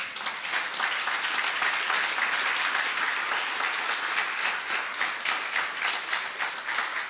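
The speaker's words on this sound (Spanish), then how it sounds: "¿Qué le parece si le da un fuerte aplauso al Señor?" A church congregation applauding, a dense, loud and continuous wash of many hands clapping that holds steady for several seconds with no talk over it.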